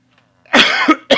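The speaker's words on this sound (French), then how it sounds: "Pardon pour la toux." A few harsh, close coughs break out loudly in a quiet room during a Minecraft gaming session, with no talking.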